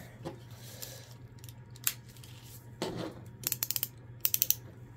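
Ratcheting joints on a Mazinger Z DX toy figure give short bursts of rapid, crisp clicks up close, one quick run followed by a second shorter run, over a low steady hum.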